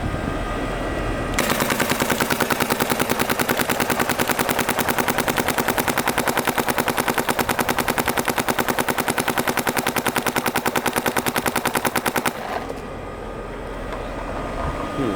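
A paintball marker fires through an HK Army LAZR Orbit barrel in a long, rapid, evenly spaced stream of loud shots lasting about eleven seconds, with quieter ambient noise before and after.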